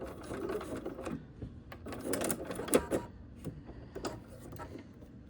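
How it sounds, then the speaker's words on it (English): A sewing machine back stitches a foundation paper pieced flying geese quilt block, a quiet whirring chatter in short bursts with small clicks and pauses, heard alone without talk. "I am still going to back stitch here"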